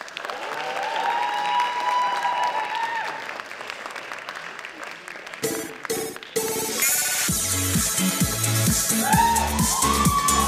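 Applause from the crowd at a cosplay contest, a loud wash of clapping and cheering that builds over music and a talking voice in the second half, after a stretch of speech with soft background noise.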